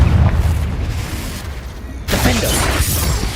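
Confringo explosive spell cast in the Hogwarts Legacy video game: a low rumbling bed gives way to a sudden loud blast about two seconds in, followed by a dense, sustained roar of debris and noise.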